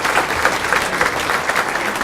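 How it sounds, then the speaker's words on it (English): Loud, dense applause from an audience at a political event with Illinois House GOP Leader Jim Durkin, continuous clapping from many people filling the whole stretch without talk. "How about a round of applause?"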